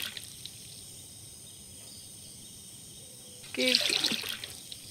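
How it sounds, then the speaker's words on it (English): In the survival game Mist Survival, water pours for about a second near the end, a brief splashing burst over a faint steady hiss of game ambience, with a short spoken word just before. "we need to put some water in."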